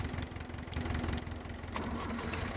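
Valpadana 4655 VRM tractor engine idling in a video game, a steady low mechanical hum with a faint regular knock, holding even and fairly loud throughout with no speech.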